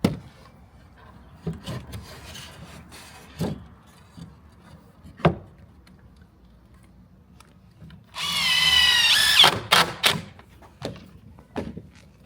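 A power drill drives screws into the wood of a panoramic barrel sauna, giving short sharp bursts with clunks and knocks between them, then a longer loud whirring run near the end followed by a few quick spurts.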